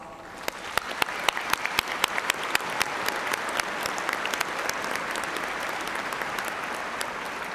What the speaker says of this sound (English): please join me in showing your appreciation for these very important people in your lives one more time with a generous round of applause